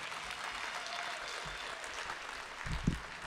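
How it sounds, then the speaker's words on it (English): Faint, distant audience applause at a political campaign gathering, a soft continuous wash of clapping with a few low thumps near the end. "a round of applause for rural Texas and Democrats in rural Texas"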